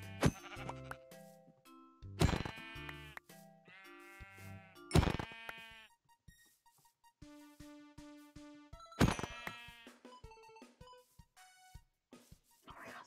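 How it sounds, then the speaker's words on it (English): Repeated sheep bleats from Minecraft overlapping in quick succession, several animals calling loudly with brief gaps between cries. "that is a herd of sheep"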